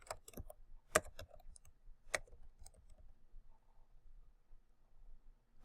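A computer keyboard typed on while entering a word in a spreadsheet, a few sharp clicks followed by lighter scattered taps, close and quiet with no talking.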